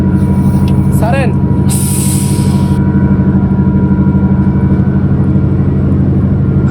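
Air hisses sharply for about a second from a loosened brake bleeder nipple on a Liugong payloader, over the steady rumble of the running machine, with a brief voice just before.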